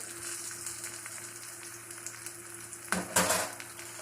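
Shallots, small onion, cloves and cinnamon fry in a pan with a soft, steady sizzle, then a brief louder burst of crackling and stirring near the end.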